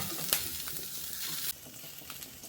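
Food sizzles and fries steadily in a hot pan, a dense continuous crackle with a brief louder burst early on and a slight drop in level midway, no voices.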